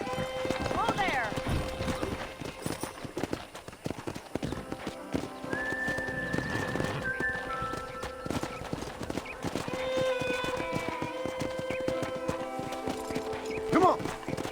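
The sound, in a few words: galloping wild horses in video game Red Dead Redemption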